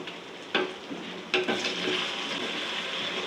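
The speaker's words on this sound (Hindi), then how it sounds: "अब इसमें मैं टमाटर डालूँगी" Thick-cut frozen tomatoes dropped into hot oil in a pan for chicken kofta curry, a sharp splashing sizzle at each addition settling into a steady, bright frying hiss.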